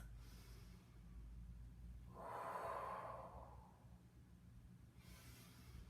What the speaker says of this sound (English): out through your mouth and in through your nose.